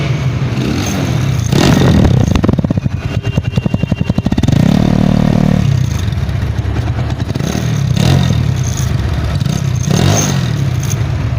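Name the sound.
Runner Bolt 165cc motorcycle engine starting and running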